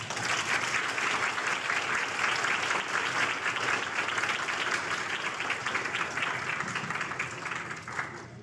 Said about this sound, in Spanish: entonces un fuerte aplauso, por favor.